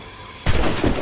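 Musket fire in the game Assassin's Creed Rogue breaks out as a sudden loud crackling burst of overlapping shots after a quiet start, close and dense, with no talking.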